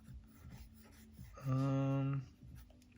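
Pencil drawing lines on paper, soft raspy scratching strokes close by, with one louder, tonal squeaking stroke lasting under a second amid quiet rubbing.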